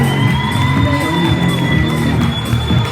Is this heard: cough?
no